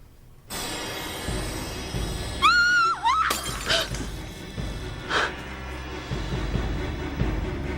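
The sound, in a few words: glass being dropped and shattering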